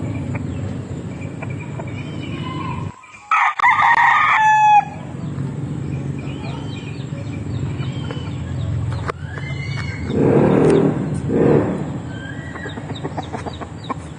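A rooster crows loudly near the start, then chickens cluck and call amid steady background noise; a second drawn-out crow rises later on.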